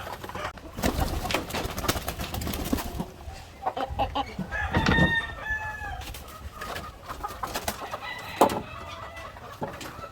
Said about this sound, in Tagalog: So ito yung gagamitin natin pang crossbreed ng native chicken.